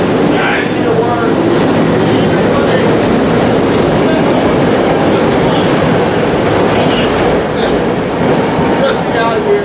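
Trains run back to back through Jenkintown station, a loud, continuous rumble of rail cars rolling close by with steady wheel noise and faint squeals, while people talk nearby.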